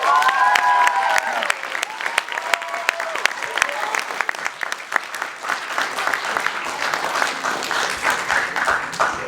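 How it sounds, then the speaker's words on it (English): Dense applause from an audience at a talent show, close and sustained, with a voice speaking briefly at the start. "Another round of applause."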